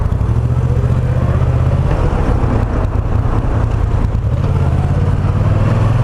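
Moto Guzzi V9 Roamer motorcycle rolling by at close range, a steady loud engine drone with low rumble holding throughout, no clear rise or fade as it passes.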